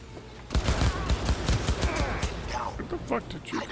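Rapid automatic gunfire in the video game Cyberpunk 2077, a dense burst of shots lasting a few seconds with a player's voice talking over it.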